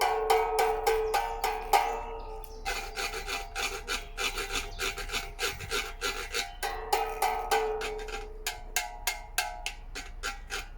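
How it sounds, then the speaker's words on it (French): Rapid rhythmic wooden scraping, a saw-notched wooden scraper rasped in quick bursts on a homemade monochord built from salvaged objects, with ringing string overtones, steady and close, with a brief pause midway. "pour faire un racloir là ici, j'ai coupé avec la scie, j'ai coupé des petites encoches"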